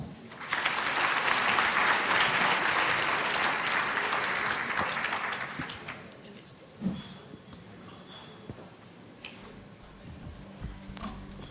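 Audience applause at a forum welcoming a former finance minister as speaker, a dense sustained burst for about five seconds that then fades into scattered claps and room noise.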